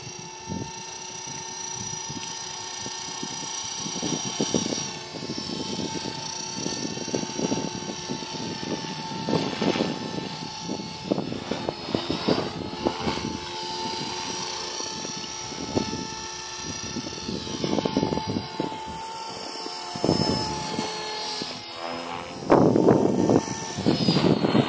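Small Align T-rex 450 Pro DFC electric RC helicopter flying loops and inverted manoeuvres, a steady high rotor whine with shifting pitch and bursts of louder blade noise as it turns, moderately close and without speech.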